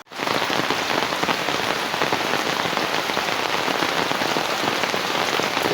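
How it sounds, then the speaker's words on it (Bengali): Heavy rain pours steadily on a village day, a dense continuous hiss of drops drumming on surfaces, loud and unbroken throughout with no voices. "দেখেন বন্ধুরা কিরকম বৃষ্টি"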